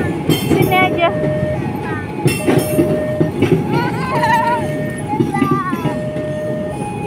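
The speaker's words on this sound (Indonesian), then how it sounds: "tuh ada udah kereta yang mau lewat sini, yang di rel sini" A train rumbles past on the rails with rhythmic clacking while people chat nearby and a faint horn-like tone sounds.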